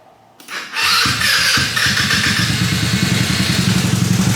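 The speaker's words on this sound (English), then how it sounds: "fires right up" A Mikuni-carbureted motorcycle that sat for six months in a trailer with stale race gas in the carb cranks briefly and then catches, settling into a loud, close, steady lumpy idle.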